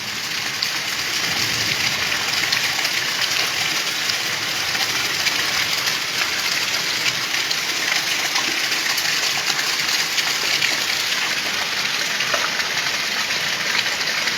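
Heavy rain pours down steadily at midday in July, a dense, loud, unbroken hiss of water drumming on surfaces with no voices over it.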